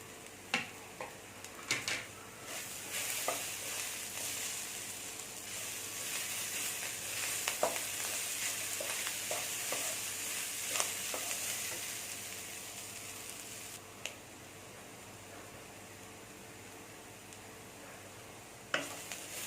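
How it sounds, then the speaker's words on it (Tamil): Raw banana podimas with chopped coriander and mint being stirred in a pan, giving a steady soft sizzle with scattered clicks and scrapes of the spoon against the metal, close and fairly quiet, with no talking. "இதை சேர்த்துட்டு நம்ம ஒரு கிளறு கிளறி இறக்கிட வேண்டியதுதான்"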